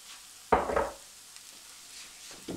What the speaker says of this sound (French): Je vais faire revenir tout ça ensemble.